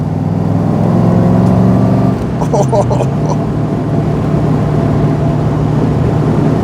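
A Daimler SP250 with its V8 engine hums steadily while driving, a low droning tone that dips briefly as the pitch shifts, with road and wind noise and faint clicks around it.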